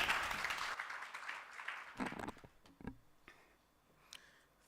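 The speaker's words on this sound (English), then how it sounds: "let's give another round of applause" Applause from a crowd at a stakeholder roadshow in Gqeberha, dense and steady at first, then thinning out into scattered individual claps.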